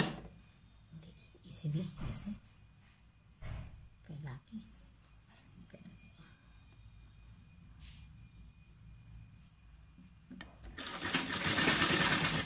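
A sewing machine stitches trouser fabric, running in a loud, steady whir for the last couple of seconds after a mostly quiet stretch of soft handling noises.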